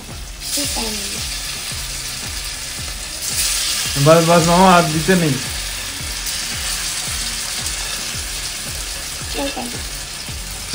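Potatoes frying in a pan, a loud steady sizzle with rhythmic ticking stirs running underneath, close up, while people talk over it now and then.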